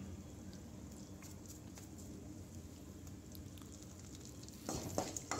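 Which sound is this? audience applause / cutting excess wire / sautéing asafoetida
sautéing asafoetida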